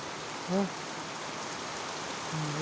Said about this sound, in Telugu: ఫుల్ వర్షం పడుతుంది ఫ్రెండ్స్